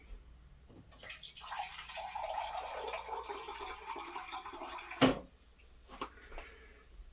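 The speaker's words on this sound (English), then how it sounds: "So I'm going to add a little bit more water." Water poured into a one-gallon jug of cherry wine, a quiet steady stream filling the container for several seconds, ending with a brief sharp knock and a few faint handling sounds.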